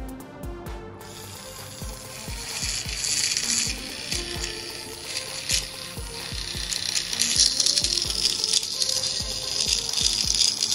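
A small DC gear motor spins up and drives pinion gears, giving a fast, steady mechanical ratcheting clatter with regular ticks that grows louder and busier as it keeps running.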